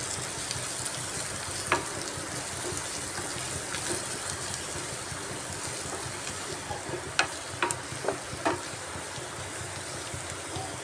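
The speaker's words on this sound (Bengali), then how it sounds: "এবার ভালো করে মশলাটাকে কষাতে হবে" Powdered spices with red chilli being fried and stirred with jackfruit in a pan, a continuous close sizzle with scattered sharper clicks and scrapes of stirring, no voices.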